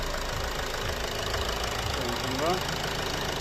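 A diesel car engine with a glow plug relay fault idles steadily with a low, rumbling knock, a brief faint squeak rising above it near the end.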